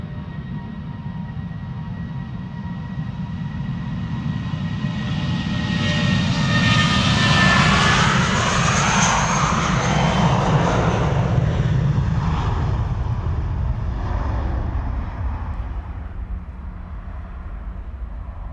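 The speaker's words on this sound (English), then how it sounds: "This is Vueling flight 8355 going to Bilbao, A320." Vueling Airbus A320 jet departing Amsterdam Schiphol for Bilbao, a loud rumbling engine roar with a whining high tone that swells to a peak as it passes, then slowly recedes.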